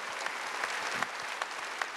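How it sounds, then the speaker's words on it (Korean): Church congregation bursts into applause during a Wednesday worship sermon, steady clapping filling the sanctuary for about two seconds with no voice over it. "박수."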